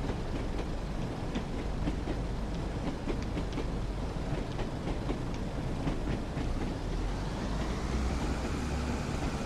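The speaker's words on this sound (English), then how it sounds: "I think the track drone noise is probably my favourite thing about train sim world when it comes to audio." Steady, loud track drone from a Class 101 diesel train in the Train Sim World game on the Tees Valley Line, a continuous rumble with faint rhythmic clicks of wheels over rail joints throughout.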